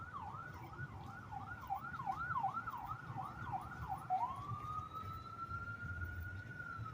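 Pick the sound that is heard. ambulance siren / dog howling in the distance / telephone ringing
ambulance siren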